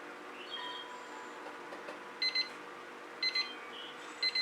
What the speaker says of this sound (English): That's my timer telling me I got 2 minutes to tell you guys whatever I need to tell you